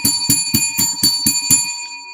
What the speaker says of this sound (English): Let's ring the bell for Big Nate Dog.